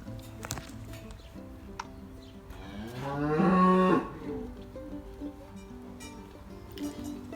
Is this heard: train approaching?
no